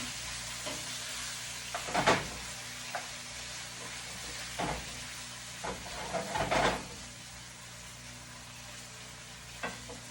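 Jamaican ackee and saltfish simmers in a pot with a constant soft sizzle, broken by occasional close scrapes and knocks of a spoon stirring against the pot.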